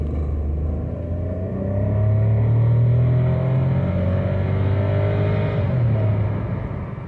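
Car with an automatic transmission accelerating hard, engine rising steadily in pitch before a smooth gear change drops the revs, heard from inside at moderate loudness with no talk.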